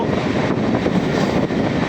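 The Amghata–Krishnanagar inaugural special train runs along the rail line, a steady loud rumble with continuous wheel and carriage noise heard from on board, with no break in the sound.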